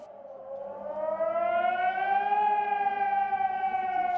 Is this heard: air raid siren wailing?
yes